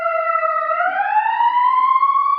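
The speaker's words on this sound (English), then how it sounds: "Jason, do you not hear the siren?" An emergency siren outside a house in a science-fiction show, one loud, steady, rising electronic wail heard alone and close.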